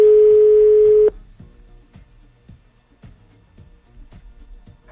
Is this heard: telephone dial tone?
yes